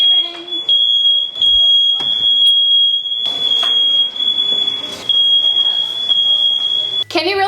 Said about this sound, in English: Can you really get through a Thanksgiving without a fire alarm?